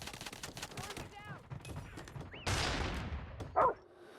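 Gunfire in the mobile shooter game Call of Duty Mobile crackles in rapid bursts, with a heavier blast near the end, mixed with other game sounds and a dog-like yelp.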